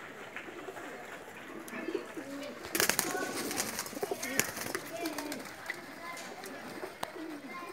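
Pakistani pigeons coo repeatedly in soft, throaty phrases close by, with wing flutters and a brief burst of scuffling noise partway through, over a steady background hum.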